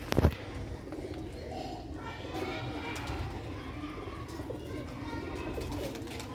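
Pigeons kept for breeding coo softly in low repeated calls, with a steady background murmur and a brief knock at the start.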